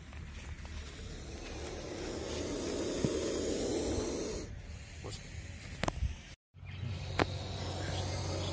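An agitated Indian cobra, raised up during a rescue, hisses in loud breathy bursts close by, with handling noise and a sharp knock partway through.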